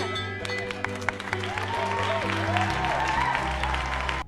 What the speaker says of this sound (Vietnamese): Một tràng vỗ tay cho quý ngài thực tập nào.